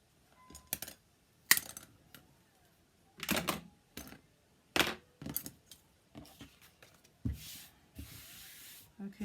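A wooden dowel rod being cut by hand for a mermaid and seahorse craft centerpiece, heard as several separate sharp crunching bursts with short quiet gaps between them, close and fairly quiet.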